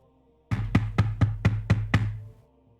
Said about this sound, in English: there's like a loud knocking coming from the front doors.